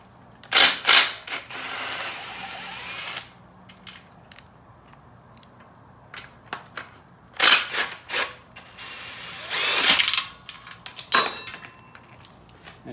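Bursts of quick ratchet clicking as a wrench cracks loose the bolts on the muffler hangers of a Yamaha YFZ450 ATV during teardown; several short, close clicking runs separated by quiet pauses.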